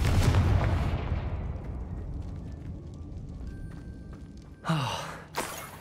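A Confringo fire spell detonates in Hogwarts Legacy, a booming blast at the start that decays into a low rumble, followed near the end by two sharper whooshing bursts.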